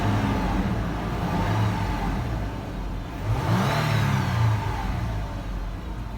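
Steady engine hum of a 2016 Toyota 4Runner 4.0 at 78,000 miles, idling with loud fan whir and a brief rise in revs midway, close and continuous without talk.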